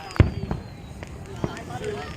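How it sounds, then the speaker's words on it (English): Fourth of July fireworks go off in a few sharp, scattered pops and thuds at a distance, under excited voices of onlookers. "here's some scorching fireworks going on"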